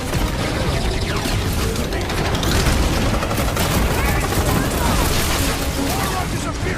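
Gunfire in Marvel's Guardians of the Galaxy game, a dense, continuous barrage of rapid shots and impacts filling the whole stretch, with character voices talking over the fighting.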